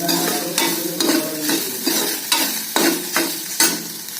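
Okra (ladies finger) frying in oil in a pan as a spoon stirs it, a steady sizzle broken by about eight sharp scraping strokes at a regular, unhurried pace, close and clear with no talking.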